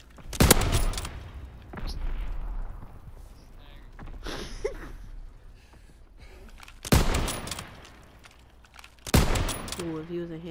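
Gunfire in a Call of Duty WWII 1v1 match, with several loud sharp shots spaced a few seconds apart over quieter game ambience, and a player talking between them.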